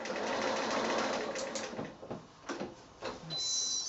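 A sewing machine stitching a child's bedding set, a fast continuous mechanical whir up close that breaks into short stop-start bursts as the fabric is pivoted at a corner.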